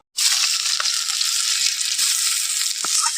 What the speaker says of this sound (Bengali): তেলের মধ্যে পেঁয়াজ কুচি দিয়ে দেবো।